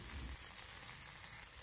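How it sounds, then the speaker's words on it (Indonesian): Chicken satay (sate maranggi ayam) brushed with sweet soy sauce and cooking oil sizzles as it grills, a steady, close hiss and crackle with no talking. "panggang satenya sampai matang"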